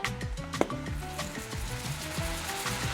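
Broccoli slaw with minced garlic is tossed and stirred in a pan, a soft continuous sizzle with light rhythmic scraping and shuffling, close and steady without talk.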